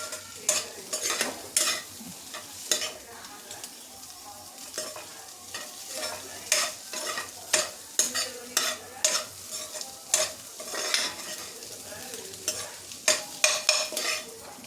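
Egg fried rice stirred and fried in a pan in a home kitchen: rhythmic scraping and clattering strokes of a spatula over a steady, close sizzle, with no talking.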